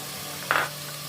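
Ground spices such as coriander powder tipped into a hot pan while cooking chicken keema ghugni give one short, close sizzling hiss that fades within a fraction of a second, over a steady low hum.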